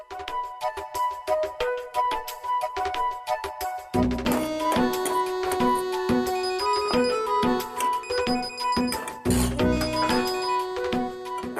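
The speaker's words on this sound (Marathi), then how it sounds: "तू ओमच्या घरून मला फोन केलास?" A mobile phone ringtone plays a bright, repeating melodic tune for the whole stretch, loud and steady, fuller after the first few seconds, with no talking over it.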